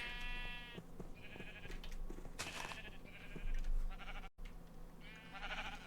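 Sheep in Minecraft bleat several times, each bleat quavering and nasal, over a low game background hum with no speech.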